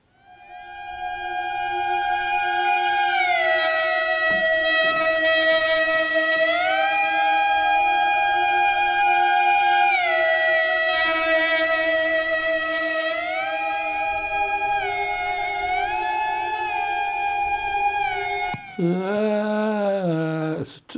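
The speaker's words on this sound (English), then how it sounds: "the E-bow is also playing it" An E-bow on electric guitar sustains smooth, organ-like tones that glide between two notes in a repeating effect, loud and continuous, ending with a brief swelling pitch bend.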